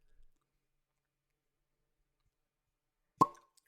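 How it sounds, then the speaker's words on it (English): A single sharp cork pop from a Texas whiskey bottle being opened, loud and close after near silence, with a brief faint rustle at the start. "cork pop to say bye to Dad"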